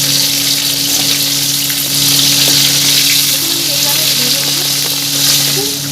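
Corn kernels coated in cornflour fry in hot oil in a kadai, giving a loud, close, unbroken sizzle over a low steady hum as they are gently stirred.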